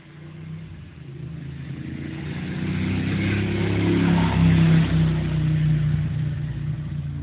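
A motorcycle passes by with an engine drone that swells to a peak mid-clip and then fades slightly, heard without talking.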